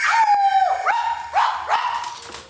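A dog lets out a long drawn howl followed by a few sharp barks, loud and close with no talking, inside a house.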